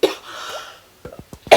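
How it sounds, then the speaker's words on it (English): A single person coughs, with a sharp burst at the start, a faint trailing breath, then a quick cluster of short dry coughs ending in a louder final cough, close and alone. "And I can't stop coughing."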